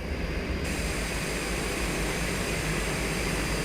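A Cessna 208B takes off in a flight simulator game, its engine a steady, loud, broadband roar that holds unchanged throughout with no talk over it.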